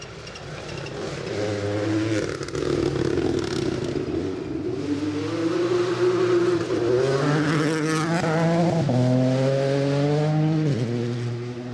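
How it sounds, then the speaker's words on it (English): A rally car launches off the line into the opening gravel stage of the Gippsland Rally, its engine revving hard and climbing through several gears, loud and close with no talk. "third car launching into stage"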